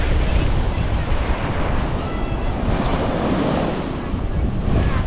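Rough ocean surf at Blue Lagoon, a white-sand beach in Pagudpud lined with windmills, crashes and rolls continuously at close range, mixed with heavy wind buffeting the microphone.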